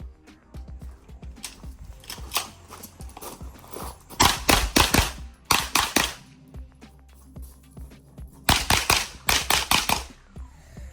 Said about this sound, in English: Before we get into it, here's a little bit of shooting.